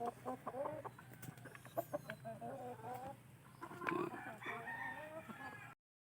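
Several chickens cluck and murmur close by, with short bursty calls overlapping in an uneven rhythm before the sound cuts off.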